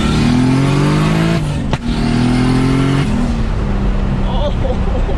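A car with an ECU shift cut revs hard through rising engine pulls, briefly interrupted by a sharp cut and pop at each gear change before accelerating again, loud and close.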